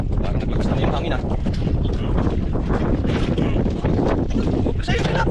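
Strong wind on a fishing boat at sea buffets the microphone in loud, rough gusts, with faint voices partly buried underneath.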